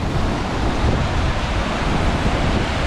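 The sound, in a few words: river water rushing past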